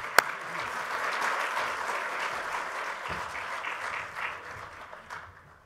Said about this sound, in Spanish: les pido un gran aplauso para todos ustedes